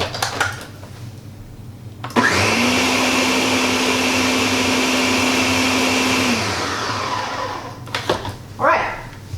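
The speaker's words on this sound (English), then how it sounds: "so that is all blended up" A countertop blender whirs loudly for about four seconds, pureeing fresh salsa of tomatoes, peppers and onions with a steady motor pitch that winds down at the end, framed by brief clatter and handling noise before and after.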